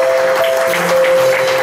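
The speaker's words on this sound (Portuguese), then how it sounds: "as palmas" A congregation at a Baptist home worship service claps hands steadily while sustained keyboard-like tones ring underneath.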